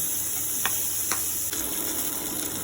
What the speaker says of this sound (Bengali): ভেজে নিচ্ছি মাছগুলি